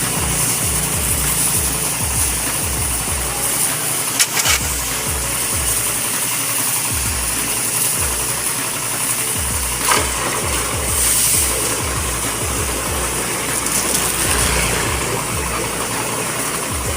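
A pressure washer sprays water to clean a car, with a continuous strong hiss over a pulsing motor thump that runs steadily close by, and no speech.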